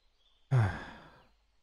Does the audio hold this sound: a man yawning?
yes